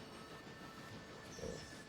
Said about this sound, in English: So we set the passenger train on his way.